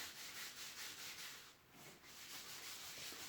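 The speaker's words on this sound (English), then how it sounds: "I'm going to use circular motions to do the scrub." Pedicure scrub being rubbed onto skin in quick circular motions, a soft, steady gritty rubbing close by with a slight rhythmic swell and no talking.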